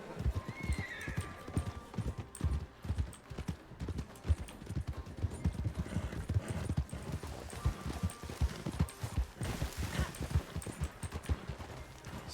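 Steady clip-clop of horse hooves trotting in Red Dead Redemption 2 (RedM), close and continuous throughout, with an occasional whinny.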